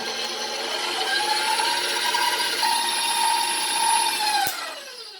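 A stand mixer on high beats egg into a fruit tart batter with its whisk attachment, giving a continuous close mechanical whir with a faint rattle that winds down near the end.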